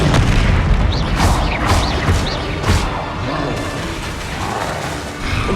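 Repeated Confringo spell blasts in Hogwarts Legacy, booming explosions roughly every half second to second, loud and close over a busy game background.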